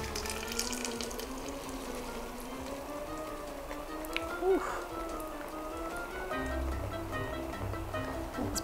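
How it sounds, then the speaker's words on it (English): Hot syrup poured into a gelatin and water mixture for marshmallows, a continuous liquid stream with hissing, bubbling sizzle, heard close and fairly faint throughout. "Take this and pour this in with the gelatin water mix."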